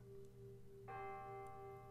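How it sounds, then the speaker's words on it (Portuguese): A single church bell tolls slowly, one resonant strike blooming out with long ringing overtones over a faint, steady background hum. "O sino continuava badalando, lento, triste, fúnebre."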